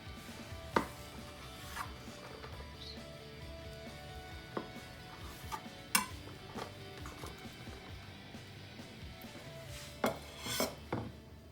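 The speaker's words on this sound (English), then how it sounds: "We're about to cut a slice." A knife slicing through a Japanese cheesecake, or cloud cake, served with raspberry coulis and fresh fruit, giving faint sparse taps and soft scrapes against the plate in a quiet room, no one speaking.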